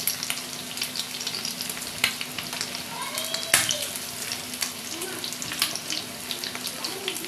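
Boiled-egg chops shallow-frying in hot oil, a soft continuous bubbling sizzle with scattered crackles and a few sharp clicks, moderately near and fairly quiet.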